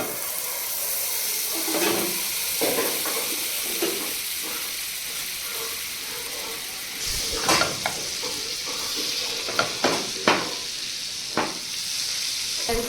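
Butter sizzling in a pan as the base for a white sauce, a continuous close frying hiss with occasional scraping stirs and clinks of a utensil against the pan.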